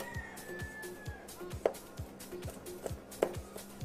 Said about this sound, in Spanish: comenzamos picando el apio. Vamos a hacer un corte sencillo al apio.